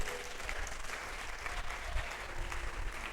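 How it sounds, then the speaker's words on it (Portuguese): A church audience claps together in sustained, dense applause during a Portuguese-language faith teaching gathering. The clapping holds steady at moderate loudness for the whole stretch, with no speech over it. "Podemos dar uma salva de palmas para Jesus?"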